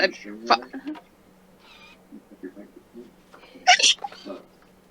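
A sharp sneeze sounds close by amid light background talk and clatter, with a few small voiced sounds before it.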